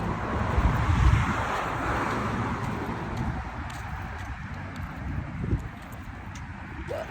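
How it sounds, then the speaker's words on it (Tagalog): Steady wind gusts across an open outdoor street at midday, a broad continuous rush that swells and eases over several seconds with faint traffic far off; no one speaks. "Mainit pero mahangin."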